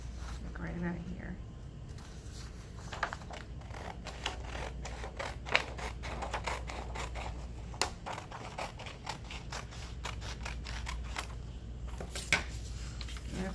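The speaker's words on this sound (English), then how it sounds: "I cut it with my scissors" Scissors snip through paper during a lunchtime craft session for journal pages, the quick irregular cuts coming close and soft over a quiet room background with no talking.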